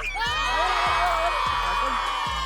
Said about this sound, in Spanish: la afición del Ronin acaba de meter el segundo gol.